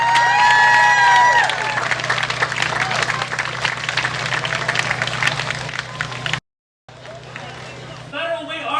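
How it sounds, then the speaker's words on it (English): A crowd at a 2017 anti-human-trafficking community event in Federal Way applauds and cheers loudly. Voices and whoops mix into the dense clapping, which briefly cuts out near the end before resuming. "One more huge round of applause for Mary for sharing her story."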